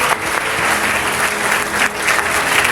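Sustained, dense applause from an audience at a school annual report card and prize distribution day, loud and steady across the whole moment with no talking over it.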